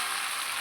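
Spiced mixture of ginger, onion, garlic, bay leaf, salt and turmeric frying in a pan, a close, steady, even sizzle with no breaks.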